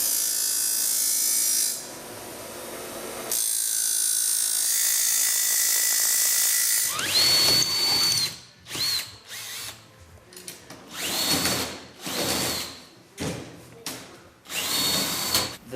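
Power tool grinding down the sharp ends of metal pieces for a hovercraft skirt attachment, heard in loud sustained bursts with a high whine, cutting in and out in several separate passes.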